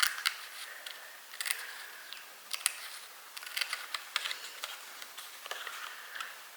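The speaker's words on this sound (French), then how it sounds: "Et je vais aller avec mes tout petits ciseaux pour attraper le bord." Small scissors snip along the edge of a piece in a craft build, a series of faint, crisp clicks and ticks spaced irregularly, close and quiet with no talking.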